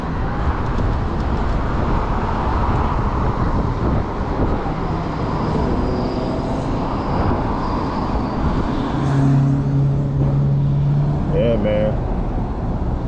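Steady highway traffic and wind roar while riding an 8000 W Tommebike electric motorbike, continuous and fairly loud throughout, with someone talking over it.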